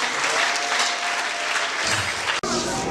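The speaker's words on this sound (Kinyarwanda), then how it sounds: "Tugukomeye amashyi n'imigisha." Sustained, even applause from a church congregation at a Believers of Jesus Church service, close and full, broken by a brief dropout near the end before resuming.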